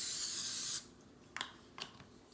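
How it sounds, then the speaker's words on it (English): Olive oil spray can hisses in one close, steady burst onto raw steak for under a second, followed by two faint soft clicks or taps. "And you just want to spray them lightly."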